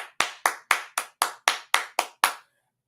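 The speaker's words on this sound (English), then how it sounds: "I gotta clap that up." Ten sharp hand claps in a steady, evenly spaced rhythm, close and loud, stopping abruptly with silence after.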